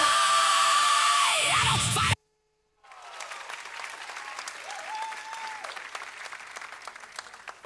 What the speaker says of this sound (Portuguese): Vamos dar um aplauso mais alto ao Senhor Jesus